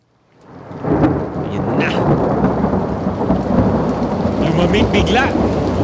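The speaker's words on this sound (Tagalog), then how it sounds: "At bigla na lang kumidlat, kumulog" Thunder rumbles through a heavy rainstorm, a loud, continuous deep roar mixed with the hiss of falling rain, while a person speaks briefly over it.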